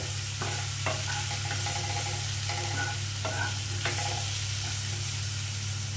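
Chickpea dal with turmeric and salt being stirred in a pan, a steady low sizzle under repeated scraping strokes of a spoon, close and fairly loud, no talk.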